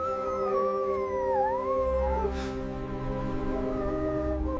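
Dogs in a frozen wilderness at about -70°C give long, wavering howls with sliding pitch, fairly close and sustained throughout, with a low rumble of wind or engine underneath.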